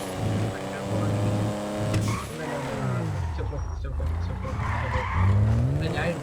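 In GTA 5, a car on a test drive skids with long, loud tire squeals over a revving engine, and the tone rises and falls as it slides and recovers.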